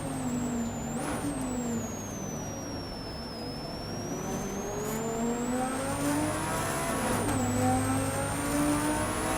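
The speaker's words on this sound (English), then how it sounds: "Nice sound, the Sesto Elemento." Lamborghini Sesto Elemento supercar engine with a steady droning tone that rises and falls through the gears, a continuous mid-distance run with no talking.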